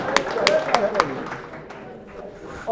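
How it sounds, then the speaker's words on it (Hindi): An audience claps during a poetry gathering, with several sharp, scattered claps in the first second that thin out and fade, followed by a brief voice at the very end. "तालियां।"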